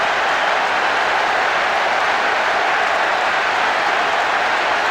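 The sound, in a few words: unhappy stadium crowd in PES 6 football video game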